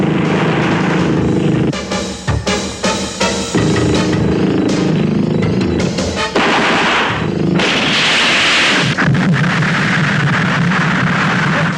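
Explosion and gunfire in a Filipino action film, loud dense blasts and crackling bursts filling the whole stretch, with a heavy roar and rumbling debris, no clear speech.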